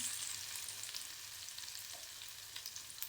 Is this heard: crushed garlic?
yes